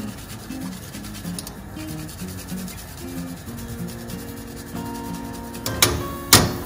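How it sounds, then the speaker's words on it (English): Garlic clove grated on a kitchen grater over a cooking pan, a steady close rubbing scrape, while a pan sizzles and a low hum runs throughout, ending with a couple of sharper scraping strokes. "I'm gonna grate 1 garlic clove in here."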